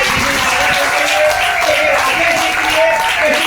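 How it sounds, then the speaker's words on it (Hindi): An audience at a business plan presentation in Nallasopara breaks into loud, sustained clapping, a thick, even roar of many hands that holds steady throughout, with some crowd noise mixed in. "मैं चाहूंगा जोरदार तालियां होनी चाहिए"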